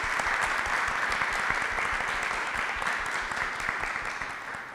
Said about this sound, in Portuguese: vamos bater uma salva de palmas para as mães?